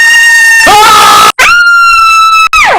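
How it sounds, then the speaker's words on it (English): Three performers at a table read scream together in a loud, sustained, high-pitched burst of several seconds, broken by two brief gaps, ending in a falling wail. "The trio scream"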